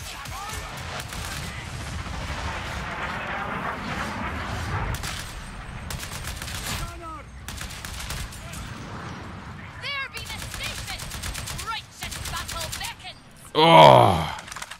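Rapid bursts of gunfire from the Warhammer 40,000 shooter Darktide crackle in clustered volleys, some fast like automatic fire, with a voice talking over them and a louder burst near the end.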